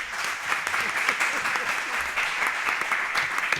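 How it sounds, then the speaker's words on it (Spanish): Conference audience at a data protection and security forum applauding, a sustained burst of many hands clapping at a steady, fairly loud level from start to finish, with no speech on top. "Un aplauso para Emilio también, por favor."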